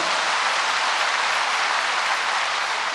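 A church congregation applauding during a sermon, a steady, dense wash of clapping that fills the whole moment without a break.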